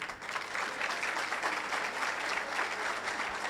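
An audience at a year-end school ceremony applauds, a dense, even wash of many hands clapping continuously at moderate loudness, slightly distant, with a faint murmur underneath.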